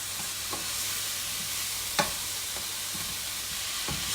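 Onion and cauliflower stir-frying in a pan: a loud, steady hiss of sizzling fat throughout, broken by a few light scrapes and one sharp clack of the utensil against the pan.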